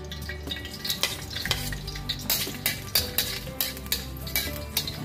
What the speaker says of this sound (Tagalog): Gisa na natin